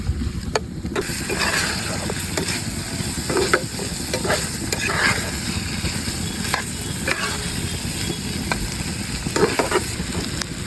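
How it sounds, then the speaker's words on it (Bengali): Chicken with black cumin and ground pepper is stirred as it fries in a pan, with a steady sizzle and repeated scraping strokes running alone throughout. "যতক্ষণ ভালোভাবে না কষে ততক্ষণ আমি নাড়তেই থাকবো।"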